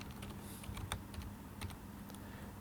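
Computer keyboard typing C code, a quiet run of irregular soft key taps at close range over faint room noise, no talking.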